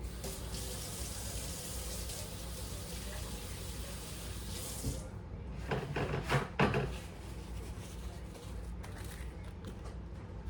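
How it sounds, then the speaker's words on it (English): Running tap water splashes into a sink as egg is washed off hands, a steady close hiss with a short burst of louder splashing and rubbing partway through, no speech. "I'm gonna wash the egg off my hand."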